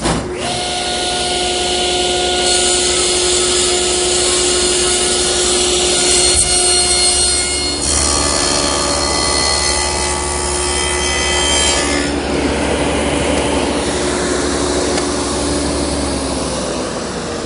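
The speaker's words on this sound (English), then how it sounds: "I've adjusted the miter gauge and I'm going to trim it off" Table saw trimming plywood against a miter gauge: a continuous loud whine with rasping cut noise that shifts in pitch as the blade loads and frees, running for the whole stretch without speech.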